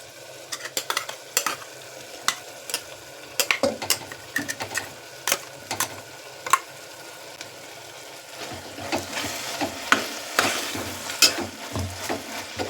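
Ground masala is fried and stirred with vegetables for an aloo batani bath, a spoon scraping the pan in quick uneven knocks that then give way to a louder, busier sizzle of frying, close up with no talk.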